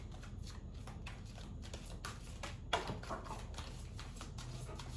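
Round tarot cards are shuffled in a quick run of soft, rhythmic riffling taps, close and fairly quiet, with no voices.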